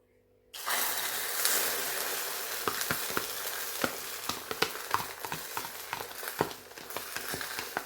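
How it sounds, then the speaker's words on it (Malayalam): Chopped, salted onions hitting hot oil, setting off a sudden loud hiss that settles into steady close frying, with many quick scraping stirs and taps of a spatula against the pan. "സവാള എല്ലാം അരിഞ്ഞിട്ടിട്ടുണ്ട് ഉപ്പ് ഇട്ട് കേട്ടോ ഇനിയിപ്പോൾ ഇത് നമുക്കൊന്ന് വറുത്തെടുക്കാം"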